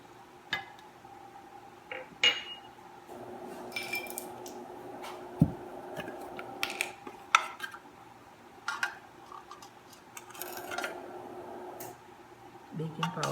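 Flour and salt for raspberry crumb muffins are stirred in a bowl, giving soft scrapes and light clinks of utensil against the bowl at irregular intervals, while someone talks.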